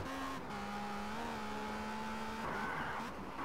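Ferrari Enzo in Test Drive Unlimited racing along, a steady high engine whine holding pitch through shifts, with a sustained tire squeal layered on top and no talk.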